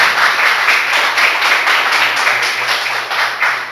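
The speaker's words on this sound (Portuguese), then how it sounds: "Você pode dar um aplauso ao Senhor Jesus?" A church congregation claps loudly and close, in a rhythmic, pulsing beat of many hands repeating steadily for several seconds, with no talk over it.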